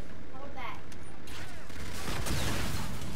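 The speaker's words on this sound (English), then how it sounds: "Jeez, explosion." A sudden explosion booms amid gunfire in a first-person shooter team deathmatch, likely from a launcher, loud and broadband, swelling over the last second of continuous game noise.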